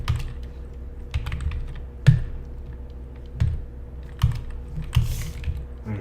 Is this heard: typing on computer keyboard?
yes